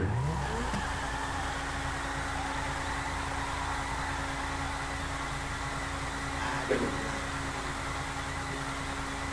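A Lamborghini copy car in GTA on PS5, its engine holding a continuous revving drone that stays fairly even throughout, with a brief rise near the end.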